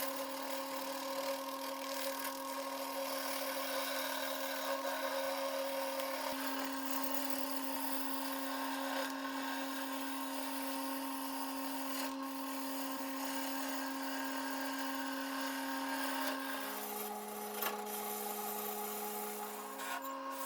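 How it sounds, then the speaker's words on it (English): A wood lathe turns a cherry log as a tenon is cut for the chuck, giving a continuous motor whine with a steady tone and a constant scraping hiss of the cutting tool; the pitch shifts near the end and nobody speaks. "Just turning a tenon to hold it safely in the chuck."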